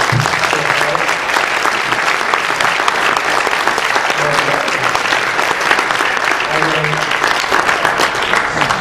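A lecture audience at a talk on artificial intelligence and the crossword-solving program Dr. Fill breaks into loud, dense applause, many hands clapping continuously and evenly for several seconds.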